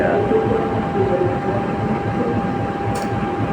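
Aboard the Majapahit passenger train, a constant loud rumble of wheels and carriage fills the space, mixed with air-conditioning hum. A brief high chime sounds near the end.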